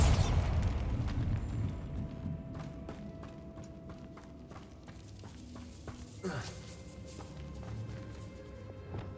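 A Bombarda blast spell in Hogwarts Legacy fires with a loud initial burst, followed by scattered pops, thuds and debris ringing out, plus a second softer impact midway.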